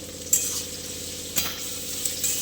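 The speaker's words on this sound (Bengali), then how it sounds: "এই যে ভাজা হোক ততক্ষণে আমি লবণ দিয়ে দিই" Food fries in a pan after salt is added, producing a continuous close sizzle broken by three sharp taps and scrapes from a stirring utensil against the pan.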